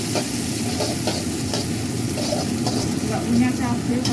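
Garlic and onion stir-fried in a little oil in a wok, giving a steady close sizzle with scraping stirring strokes throughout.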